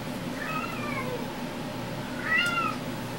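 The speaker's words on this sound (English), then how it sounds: "listening to a crazy cat" A house cat meows twice, a drawn-out mid-pitched call followed a second later by a louder, higher, wavering meow, heard close against a low steady background hum.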